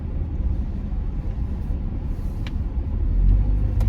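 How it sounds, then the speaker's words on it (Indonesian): A 2022 Toyota Veloz, automatic in D and carrying five passengers, climbs a hill with a steady low engine and road rumble inside the cabin that swells slightly toward the end. "Sekaligus kita mengetes kekuatan mobil ini untuk menanjak"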